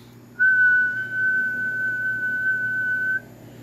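A person whistles one steady, sustained tone into a laptop microphone, clear and close for about three seconds over a low background hum, with no talking.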